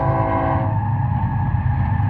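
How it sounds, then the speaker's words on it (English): A train rolls past out in the open desert, a steady, loud rumble of wheels and engine with a sustained horn-like tone fading early on, continuous throughout with no talking. "You can hear the train going by."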